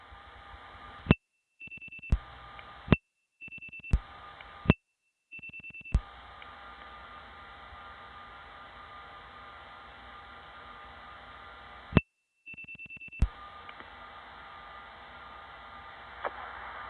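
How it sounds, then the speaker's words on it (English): Telephone dialing tones on a 1970s long distance network: a run of short steady tone bursts separated by silent gaps and clicks, then a long hissing line tone over faint hum. "Let me dial 556, a code for Harlem, followed by one more digit that happens to be a vacant thousand group."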